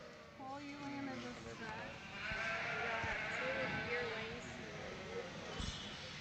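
Sheep bleat repeatedly in the ring at the Nebraska State Fair open class sheep show, several overlapping calls rising and falling over steady crowd murmur and a distant voice, with occasional hoof knocks.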